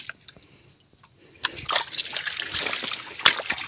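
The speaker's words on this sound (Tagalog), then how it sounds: "Yan, sapa." Stream water from a small creek pours and sloshes into a bucket, a splashing, trickling rush that starts quietly and turns steady and fairly loud after the first second and a half.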